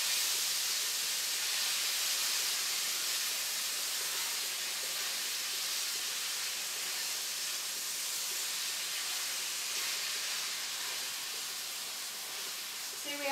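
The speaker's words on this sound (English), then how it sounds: "See, we have a nice good sear on the beef." Beef and vegetables sear in a very hot pan for a quick Korean stir-fry, giving a steady bright sizzling hiss that stays loud and even throughout, with no talk.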